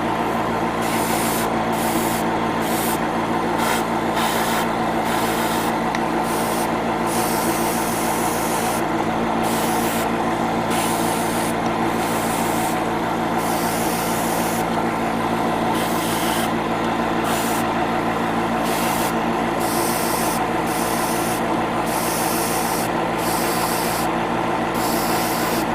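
Continuous broadband hiss of an airbrush or spray can applying Mr. Color white over Real Grade 1/144 Nu Gundam HWS model parts, steady and close with brief pauses between passes, no talking.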